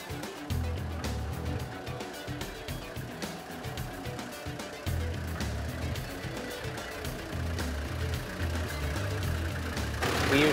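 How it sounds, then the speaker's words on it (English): A 4WD vehicle climbing a hill in second gear, its engine a steady low drone that swells as speed builds, with wheels and body rumbling over rough ground and a brief change in the drone partway. "we pull away steadily and increase our speed as we go up the hill"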